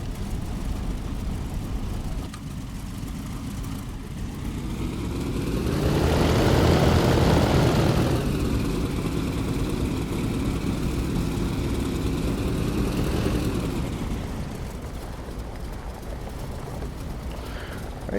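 A propeller airplane taxiing in the DCS flight simulator, its steady engine drone rising to a louder surge in the middle and then settling back to an even idle hum.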